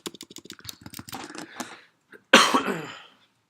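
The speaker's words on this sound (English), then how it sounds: "I'll let you finish typing first." Typing on a computer keyboard during a university computer science lab session: rapid, irregular key clicks for about two seconds, then a brief pause and one louder broadband burst, like a cough, with no talk.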